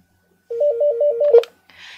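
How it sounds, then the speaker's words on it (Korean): A telephone rings with an incoming call, a clear alternating tone pulsing about six times in quick succession, then cutting off with a click and faint rustle; no one speaks over it. "전화 왔네요."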